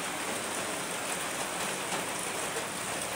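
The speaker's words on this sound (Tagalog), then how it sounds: "palaging umuulan dito sa amin mga ka-vlogs." Rain falls continuously, a dense, even hiss of drops on surfaces that holds steady and moderately soft from start to finish without talk.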